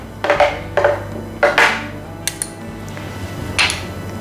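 A spoon digs Dijon mustard out of a jar, giving a few sharp, close metallic clinks and scrapes against the glass with short pauses between them and no talking.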